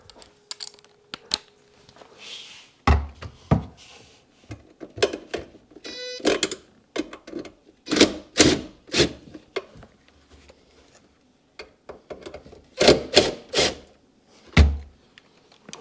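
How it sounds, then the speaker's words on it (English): A ratchet loosens bolts on a Seadoo 4-TEC jet ski engine, giving close, sharp bursts of clicking and clattering metal with short pauses between them. "Loosen up some bolts."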